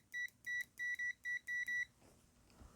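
ZOYI ZT-701 pocket oscilloscope multimeter sounding its continuity beep: six short, clean electronic tones in quick succession, then quiet handling noise.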